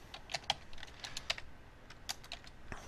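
Computer keyboard typing while a short program is written, soft, close, irregular clusters of key clicks with brief pauses and no talk.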